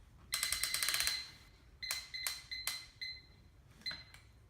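An Easy Bake Oven kitchen timer gets started: a quick run of bright ringing clicks as it winds, then a few separate metallic dings and chimes, faint and close with no talking.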